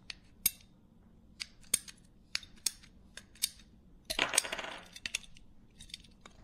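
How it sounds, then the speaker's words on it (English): A tool cuts PVC pipe parts for an ROV frame: a series of crisp, isolated snapping clicks at irregular intervals, then a short rough crunching burst, all close and fairly quiet. "Mark them on the PVC and then take a tool and cut each of those parts."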